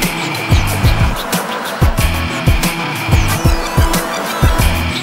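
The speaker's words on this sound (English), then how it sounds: "when you turn in, that's when you actually hear some screeching" Skoda Superb tires squeal in repeated short bursts over a loud, steady engine roar, the screeches recurring every second or so as the car corners.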